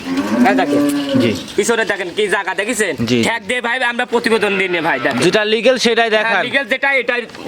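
A dairy cow on a Bangladeshi farm moos loudly and close, with long drawn-out calls repeating across the stretch, mixed with nearby people talking.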